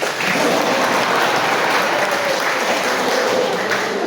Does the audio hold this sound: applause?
yes